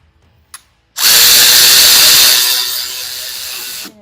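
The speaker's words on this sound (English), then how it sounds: "We're going to go ahead and tighten the Allen bolt so it's firm." Power driver running on an Allen bolt while fitting a shorty brake lever to an Aprilia Tuono 660, a single loud, steady whir of about three seconds after a faint click, with no talk.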